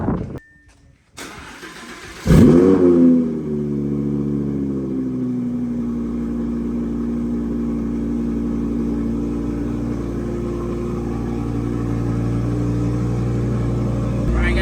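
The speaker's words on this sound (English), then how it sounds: "we're gonna give you guys a couple of revs" Audi R8 V10 with a Capristo exhaust fires up loud and close, then settles into a steady, deep idle with a strong low rumble; no one speaks.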